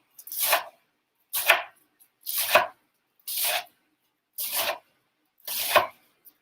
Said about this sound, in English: And then I just start chopping.